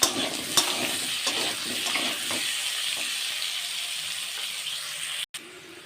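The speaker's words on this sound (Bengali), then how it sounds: "তো সামান্য লবণ দিয়ে আমি আলুটা ভেজে নেব" Potatoes frying in a pan with a little salt, a steady close sizzle with scraping stirs early on, running continuously before a brief cut near the end.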